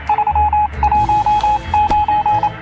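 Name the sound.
radio signal Morse code beeps in video game 60 Seconds Reatomized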